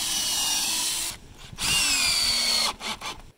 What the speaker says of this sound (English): There we are, sanding